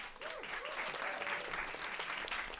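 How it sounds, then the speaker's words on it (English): A room of listeners gives a round of applause at a food-focused gathering, steady, even clapping from many hands lasting throughout, moderately close with a faint voice underneath. "Give her a round of applause"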